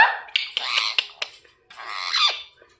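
A ring-necked parrot gives a series of loud, close, harsh squawks in quick bursts, breaks off briefly, then lets out a longer, wavering screech.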